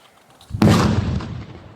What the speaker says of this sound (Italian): Questa è solo una delle esplosioni di un carico di 1500 pericolosissimi ordigni rudimentali sequestrati a Catania, fatti brillare dagli artificieri.